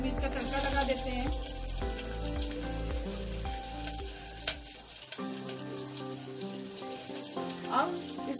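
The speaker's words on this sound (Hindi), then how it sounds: "अब इसमें हम जीरा और हरी मिर्च का तड़का लगा देते हैं" Loud, steady sizzling and crackling of cumin seeds and green chilies frying in hot ghee, dense hiss that eases a little partway through, with a few sharp pops.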